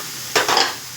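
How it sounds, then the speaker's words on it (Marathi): Lemon pickle mixture being stirred in a pan on a gas stove for an instant sweet-and-sour lemon pickle, giving a short burst of scraping and sizzling from about a third of a second in, near and fairly loud, fading off quickly. "गॅसवर कढई ठेवली, पॅन ठेवला आणि त्याच्यामध्ये हे टाकून दिलं"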